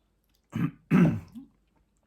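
Two short, close throat clearings in quick succession, the second harsher and longer, with silence on either side.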